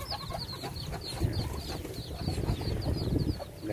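Pigeons and other fowl in an aviary fill the air with overlapping coos and clucks, with occasional wing flaps, heard close and continuous.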